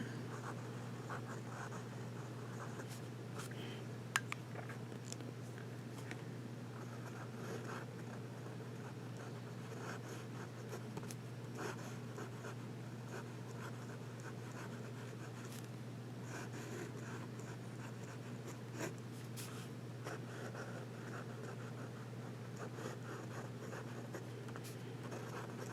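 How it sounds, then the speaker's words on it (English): Gold flex nib fountain pen writing on paper, a soft continuous scratch held over a steady low hum throughout, with a few faint taps and no speech. "Let's do some writing with it."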